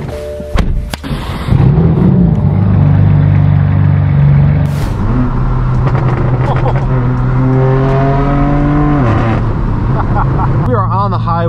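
A straight-piped BMW M4 F82 drones loudly on a highway, its exhaust holding a steady low roar that climbs in pitch through gear pulls, with brief thumps and a voice talking over the engine.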